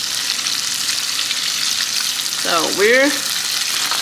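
Garden okra fries in a pan with a strong, steady hiss of hot oil, while a voice speaks briefly partway through.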